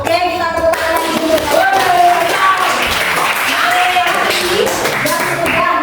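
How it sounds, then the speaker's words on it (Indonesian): A classroom of children clap their hands together in unison, a fairly steady burst of tapping claps with a teacher's voice and children's voices mixed in throughout. "kita tepuk tangan dulu"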